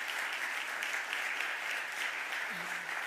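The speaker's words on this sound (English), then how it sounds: "Please give them a round of applause." An audience applauding at a mayor's budget address, with steady dense clapping throughout, even and moderately distant.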